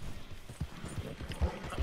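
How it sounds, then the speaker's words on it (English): Faint horse hooves clip-clop in a quick, uneven series of soft knocks, heard at a distance outdoors with low background noise. "Horse."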